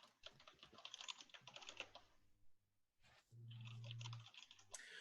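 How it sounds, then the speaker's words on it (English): Rapid clicking keystrokes come from a computer keyboard in bursts, with a pause and then a low hum under further typing. "So while he's typing that"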